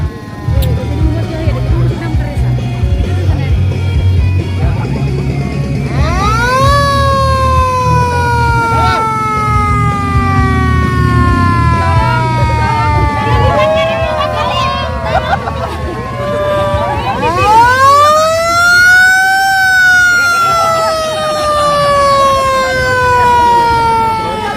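Fire truck sirens in a carnival parade, two wailing sirens rising and falling in turn over a rumbling engine, loud and near, with crowd babble and an announcer talking underneath.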